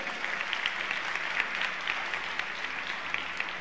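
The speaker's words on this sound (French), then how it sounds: "Acclamez le Seigneur, mes chers amis." A church congregation applauds steadily and warmly throughout, a dense, even clapping with no pauses and no voices over it.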